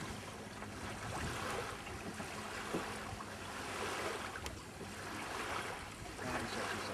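Several motorboats out ahead on open water, a steady broad rush of engines and hull wash mixed with waves and wind, continuous and fairly distant, with no speech.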